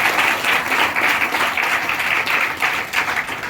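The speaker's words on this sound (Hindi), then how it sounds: "तालियों को बजाएंगे लेकिन सच में" A church congregation claps during a Palm Sunday service, many hands together in a loud, lively burst with a faintly pulsing rhythm that keeps going throughout.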